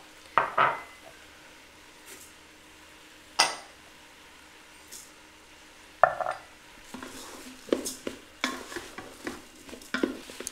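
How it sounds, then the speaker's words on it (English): Rice goes into a pressure cooker pot for turkey and rice soup, with a few sharp clinks and knocks followed by scattered scraping and stirring, moderately close, with no speech. "we can go ahead and add in the rice now"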